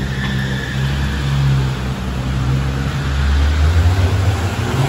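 Sports car engine rumbling and revving during street carspotting in Monaco, a loud, steady low drone with rising and falling tones over constant background traffic noise.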